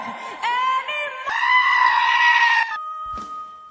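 A goat screams out a long, loud, bleating wail that mimics a sustained pop ballad note, wavering and stretching for a couple of seconds before breaking off into a shorter cry.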